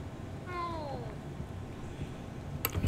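A cat in the Hogwarts Legacy video game gives a single clear, descending meow over a muffled, steady game ambience, followed by a faint click.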